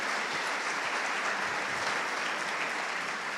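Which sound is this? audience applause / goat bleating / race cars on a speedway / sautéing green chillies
audience applause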